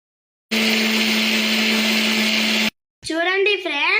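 A kitchen mixer grinder whirs loudly and steadily for about two seconds while blending raw mango juice with sugar, then cuts off abruptly, and a person starts speaking right after.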